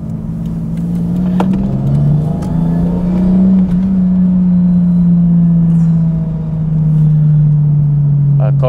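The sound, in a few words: Toyota Supra JDM engine accelerating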